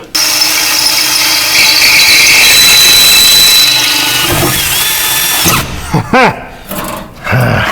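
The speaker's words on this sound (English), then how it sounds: "let this drill bit laugh at me as I try to run it through that piece of 1/8 inch plate" A drill bit grinds loudly and continuously through a rusty 1/8 inch steel plate on an abandoned 1958 Ford F100 truck, with a steady high whine for several seconds before stopping; brief talk and bumps follow.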